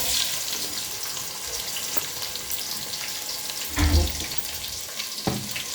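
Cumin, onion and green chillies frying in hot oil for a fish curry, a steady hissing sizzle with a few louder bursts and faint stirring clatter.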